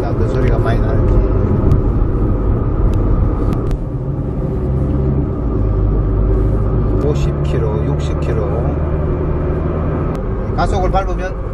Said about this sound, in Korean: 가속을 밟으면 쉐 하는 소리가 많이 납니다